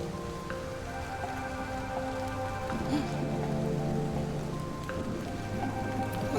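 Steady rain falls on a surface, an even patter of drops with a few louder splashes, moderately close and continuous throughout, with a faint low rumble in the background.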